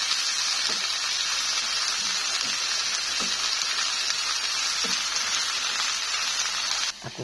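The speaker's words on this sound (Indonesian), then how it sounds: "Aku goreng lagi, habis nasi goreng, nasiku udah habis." Vegetable fried rice sizzles and crackles steadily in a hot pan as it is stirred, a dense continuous hiss with occasional soft scraping of the utensil, close and fairly loud throughout.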